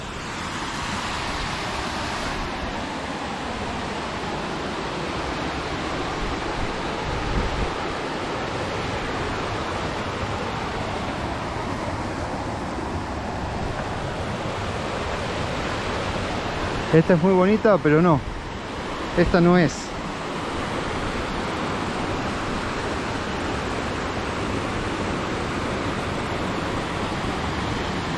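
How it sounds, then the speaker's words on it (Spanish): A waterfall cascading into the Olla del César pool near San Clemente, Córdoba, heard up close as a steady, loud broadband rush throughout, with a person talking briefly over it. "la cascada y debajo la olla del César"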